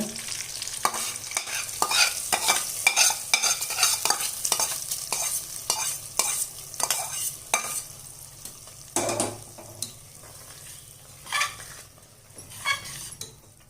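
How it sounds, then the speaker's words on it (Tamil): Steady stirring in a pan as tempering is mixed into Andhra-style tomato thokku, a spoon scraping repeatedly against the metal over a soft background sizzle, close and moderately loud with no talking. "இப்போ இந்த தாளிப்பு எடுத்து அதில் சேர்த்துக்கலாம். தாளிப்பை சேர்த்துக்கலாம் தக்காளி தொக்கில்."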